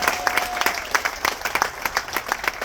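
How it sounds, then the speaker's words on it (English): A crowd aboard the Carnival Liberty cruise ship at a military appreciation event applauds with brisk, dense clapping that keeps up steadily for a few seconds, with no voices over it. "Clap for enduring freedom over there."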